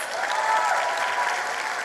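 At a matric results announcement, an audience breaks into a short, loud burst of continuous applause for a top learner.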